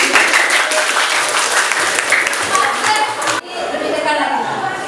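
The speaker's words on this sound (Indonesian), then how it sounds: "Oke, tepuk tangan dulu." An audience in a classroom-style setting applauds in a loud, dense burst of clapping mixed with chatter and laughter. It drops off sharply, then quieter clapping and voices carry on.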